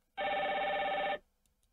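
A single electronic ring from a telephone on a FreePBX/Asterisk phone system sounds for about a second, clear and close, then cuts off into near silence.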